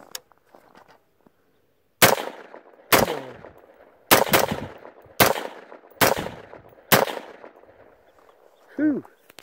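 Black Rain Ordnance Spec 15 rifle with a competition compensator firing outdoors, seven loud sharp gunshots spaced about a second apart, each ringing briefly, with quiet murmuring before the first shot.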